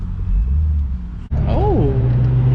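Ford Focus ST engine rumbling at a car meet, a loud steady idle cut briefly before a quick rev that sweeps up and settles back into a low, close drone.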